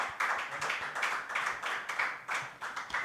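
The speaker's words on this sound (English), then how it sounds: "Please let's give a warm applause again for our CEO." A small audience claps for a company CEO at a live-streamed health insurance event, a steady patter of applause of moderate loudness without speech.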